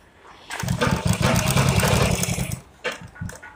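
A sewing machine runs steadily while stitching a seam on palazzo pants, a loud continuous whirring burst lasting about two seconds, then two short stitching spurts after a brief pause.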